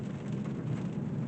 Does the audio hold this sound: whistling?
no